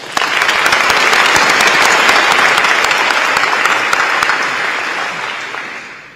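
Loud, close, dense applause from a large dinner audience at the AmCham Taiwan banquet, sustained throughout and tapering off slowly toward the end.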